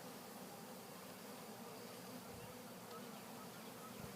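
A large honeybee swarm hangs on a cedar tree, giving off a dense, continuous buzzing hum that stays steady and fairly close throughout.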